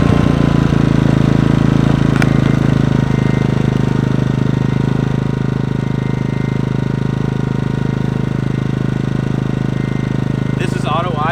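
A Ryobi 2300-watt generator engine runs steadily at close range, a loud constant drone with a low hum throughout. A short voice comes in near the end.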